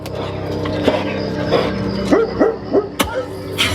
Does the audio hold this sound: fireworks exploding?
no